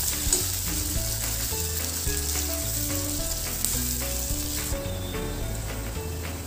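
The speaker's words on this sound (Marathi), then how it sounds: "हा कांदा आपल्याला छान सोनेरी रंगाचा होईपर्यंत तेलामध्ये परतून घ्यायचा" Sliced onions fry in hot oil for biryani, giving a steady, dense sizzle with crackling throughout and occasional soft stirring, close and fairly loud with no talking.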